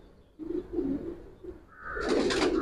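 A male silver Giribaz pigeon coos in a few soft, low, throaty phrases close by, followed by a brief brighter rustling burst at the end.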